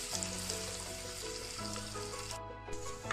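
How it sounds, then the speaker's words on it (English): Garlic, ginger and curry leaves sautéing in a pan, a soft, fairly quiet sizzle under a low steady hum, with a short lull near the end. "So saute it all together till the garlic and ginger turns light brown color."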